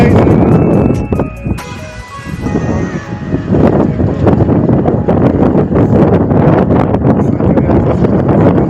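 Outdoor wind buffets the microphone in continuous roaring gusts on a sunny day, briefly easing before rushing back strongly.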